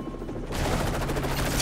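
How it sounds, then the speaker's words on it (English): Heavy enemy gunfire in Modern Warfare 3, a dense burst of rapid shots that swells loud after a brief quieter start and keeps going without pause, with no talk over it. "There's a lot of people shooting at me though, Price."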